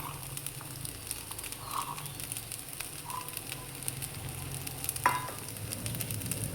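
Boiled chhana fries in a pan with rice, potatoes and onion, making a quiet, steady sizzle with soft stirring sounds. One brief sharp clink comes near the end, and no one speaks.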